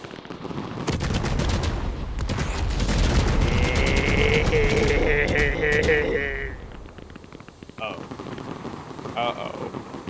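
Fireworks going off in the video game Fireworks Mania: a long, loud run of rapid crackling bursts and pops with whistling trails, fading out into scattered later pops.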